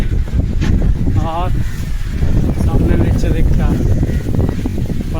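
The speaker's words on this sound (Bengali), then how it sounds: "ঝড়ের মতো হাওয়া দিচ্ছে" Strong, storm-like wind at a lakeside in Lalbagh Botanical Garden, Bengaluru, roars as constant rumbling buffeting on the microphone. People talk over it throughout.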